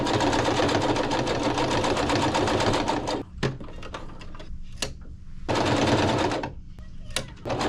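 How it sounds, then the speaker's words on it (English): A sewing machine stitches long handmade floral crossbody bag straps together, running in two loud rapid bursts separated by a quieter pause with handling clicks. "I'm gonna sew them together the long ways like this"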